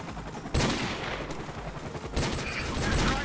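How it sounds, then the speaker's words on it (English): An airstrike in Call of Duty Modern Warfare Remastered: two heavy bursts of rapid explosive impacts that crash in loudly and then rumble on, the second hitting partway through. "That's an airstrike"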